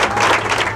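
Newsroom staff clap for a returning longtime news anchor, a short burst of close, steady applause from a small group.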